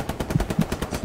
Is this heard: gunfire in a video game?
yes